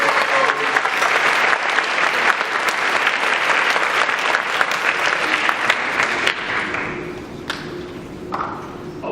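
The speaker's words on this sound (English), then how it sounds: "I'd like to give those two a round of applause as well." A high school band concert audience applauds loudly and steadily, dense clapping that thins out toward the end as a few scattered claps and taps linger.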